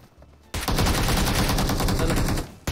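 Rapid automatic gunfire in the video game PUBG, a loud, continuous burst of shots that starts abruptly after a brief quiet moment and runs steadily for about two seconds before cutting off.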